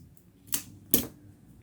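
Scissors cutting crochet yarn make two quick, crisp snips about half a second apart, close to the microphone in a quiet room.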